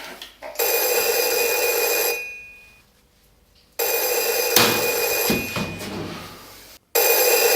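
An old-style telephone bell rings in a room, with three long, loud trilling bursts separated by brief silences.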